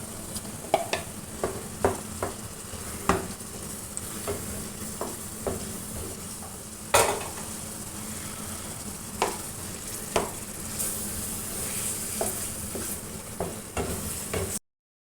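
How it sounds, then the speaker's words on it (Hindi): Eggplant frying in ghee with masala, a steady sizzle in the pan broken by repeated scraping and stirring strokes at irregular intervals, close and fairly quiet. "अब मैं इसमें बैंगन डालूँगी,"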